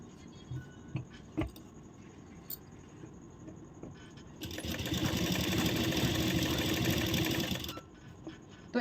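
A sewing machine stitching blouse fabric runs in a steady whirring burst of about three seconds in the middle, with quiet handling clicks and pauses before and after.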